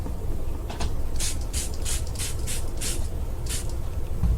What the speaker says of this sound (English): Spray my screen.